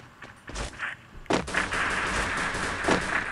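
Gunfire from the Free Fire video game, a few sharp shots followed by a sustained burst of firing with echoing blasts, loud and close with no voices.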